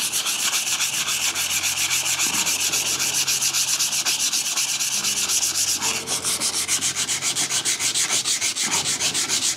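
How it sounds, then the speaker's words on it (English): Steady, rhythmic abrasive rubbing of sandpaper, likely 120 grit, scraping back and forth to remove rust from a metal hand plane, loud and close, continuing without pause. "I'd use the sandpaper to remove the rust first"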